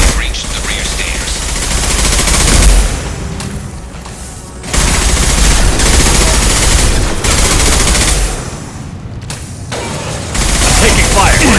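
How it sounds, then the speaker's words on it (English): Dense, loud gunfire from a Mass Effect 2 firefight, with sustained automatic bursts and booms running almost continuously, broken by a couple of short lulls, and voices shouting over the shooting. "Taking fire!"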